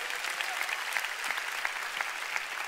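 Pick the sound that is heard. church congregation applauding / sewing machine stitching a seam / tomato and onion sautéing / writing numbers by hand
church congregation applauding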